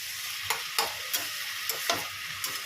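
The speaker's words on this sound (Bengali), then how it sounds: "আদা বাটা জিরে গুঁড়ো দিয়ে ভালো করে এবার মজিয়ে মজিয়ে শুকনো করবো" Cabbage with green peas, tomato, fried potato, ginger paste and cumin powder stir-cooks in a pan: a steady close sizzle under evenly spaced spatula scrapes, about six strokes, with no talking.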